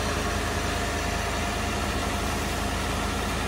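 Steady, close engine drone from a 1992 Chevy Caprice Classic idling after a cold start, even and continuous without any voices.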